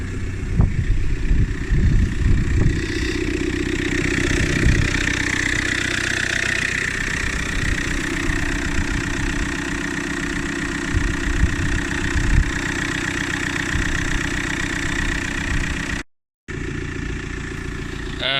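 Vauxhall Vectra C 1.9 CDTI 150 diesel time-attack car idling while it warms up, a steady, close and fairly loud low rumble that holds for the whole stretch, with one brief dropout near the end.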